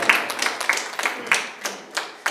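A small audience at a debate competition claps for someone being called to the stage, producing close, sharp, scattered hand claps in an uneven rhythm rather than a full roar of applause.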